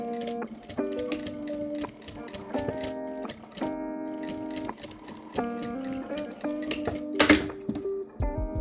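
A sewing machine stitching fabric bias binding for a half-moon pouch runs in short, rhythmic bursts of rapid needle clatter separated by brief pauses, with a sharper rattle near the end.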